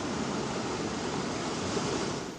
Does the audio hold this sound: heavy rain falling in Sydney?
yes